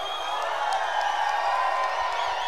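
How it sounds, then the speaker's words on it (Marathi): A large outdoor crowd at a Dahi Handi premier league final in Maharashtra keeps up a steady roar of cheering, with shrill whistles and scattered clapping sustained throughout. "शिट्ट्या, टाळ्या झाला पाहिजे जोरदार."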